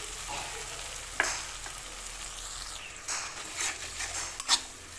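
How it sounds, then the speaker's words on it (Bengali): Spice paste (masala) with whisked yogurt is sautéed in a pan for a sea crab curry, giving a steady close sizzle with occasional scraping stirs of a spatula against the pan. "মশলাটা আরও কিছু সময় খুব ভালো করে কষিয়ে নেব"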